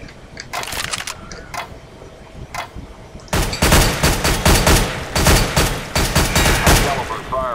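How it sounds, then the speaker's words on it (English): Gunfire in Counter-Strike: Global Offensive, with a few scattered single shots at first and then loud, rapid bursts of automatic fire in quick succession. "Fire in short controlled bursts."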